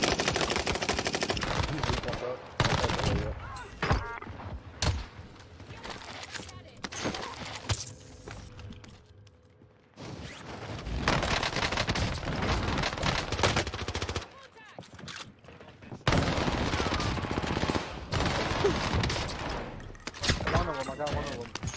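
Rapid automatic gunfire from a PPSh build fills a Call of Duty match on Rebirth Island, with loud sustained bursts broken by short pauses while players talk over the shooting.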